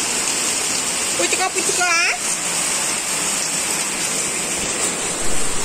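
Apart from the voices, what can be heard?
heavy rain falling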